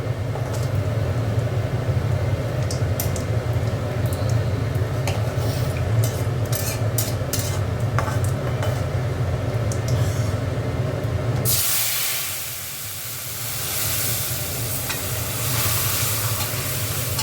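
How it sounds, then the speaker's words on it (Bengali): Matar dal tipped into a hot pan with a tempering, giving a loud steady sizzle with stirring that cuts to a softer, hissy bubbling partway through; no talking. "এবার এই ডালটা ঢেলে দেবো।"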